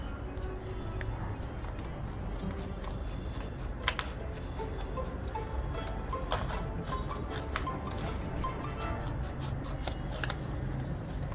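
Scissors cut paper while folding an origami bat plane: quiet, close snips and ticks repeat irregularly throughout, with no voice.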